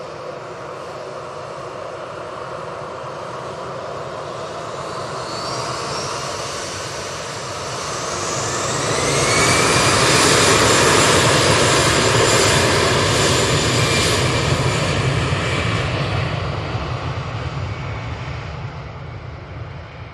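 Aircraft engines rumble as a plane prepares to depart from Manchester Airport, a steady roar that swells into a loud, rising whine near the middle and then slowly eases off.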